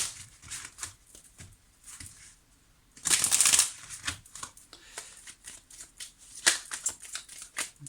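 Line of Love oracle cards being shuffled by hand: a steady run of soft papery riffles, with one louder, denser burst of card flicking partway through. No one speaks.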